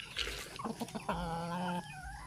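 A pet sweater roundhead gamefowl rooster clucks close by, a few short choppy calls leading into a longer drawn-out tonal cluck, against a low steady background hum.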